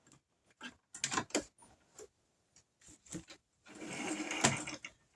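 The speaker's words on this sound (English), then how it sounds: "We're going to do a back stitch. Sew back over." A sewing machine runs in short bursts while sewing a coffee cup cozy and backstitching over the seam, ending in one longer continuous run. It is close and clear, with no talking.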